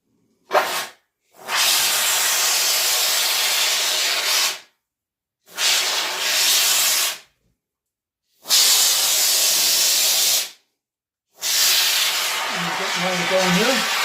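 Aerosol spray from an inverted can fitted with a screw-in nozzle, used on slot car track scenery: four loud, close hissing bursts of one to three seconds each, separated by brief silences.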